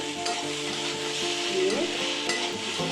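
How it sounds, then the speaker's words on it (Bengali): Vegetables fry in a pan with a steady, close sizzle, and a spatula stirs them in light scrapes and taps throughout. "এখন এটা তো রান্না করছি মানে ভাজা করে দিচ্ছি"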